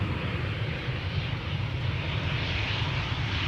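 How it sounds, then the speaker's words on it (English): EasyJet airliner coming in to land at Amsterdam Schiphol from London Gatwick, a steady broad engine roar with a low rumble, sustained at an even level throughout with no voices. "here we have our first EasyJet of the day. It is returning to Amsterdam from Gatwick"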